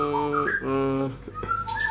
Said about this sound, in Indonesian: Saya telah menghadirkan murai batu balak ya, murai batu balak